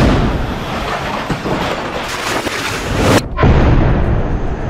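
Sudden explosive ordnance fire from Al Qassam fighters hidden in ruined buildings in Gaza, striking an Israeli military vehicle: loud continuous blast rumble and crackle, then a sharp cutoff and a renewed heavy boom near the end, no voices.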